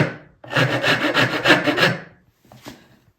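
A rasp filing down the face of a wooden tenon for a mortise and tenon joint: a close, rough rasping scrape in one long push, then a shorter, fainter stroke after a pause.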